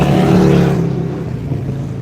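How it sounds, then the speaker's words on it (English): A loud nearby engine drones with a low, throaty rumble that eases slightly as it steadies, filling the whole moment without any speech. "Let this motorcycle make its noise."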